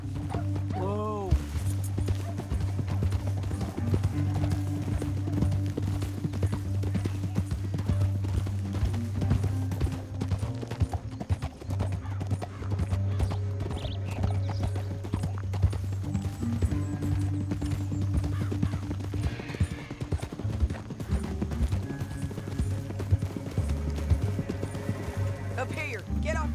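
Horse hooves clip-clop and gallop steadily in the Red Dead Redemption 2 game, with rumbling motion under a continuous music and ambience bed, and a brief whinny near the start.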